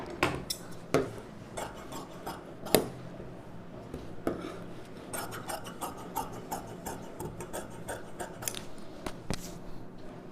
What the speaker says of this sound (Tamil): அடுத்தது வந்து பட்டி பீஸ் கட் பண்ணிக்கலாம்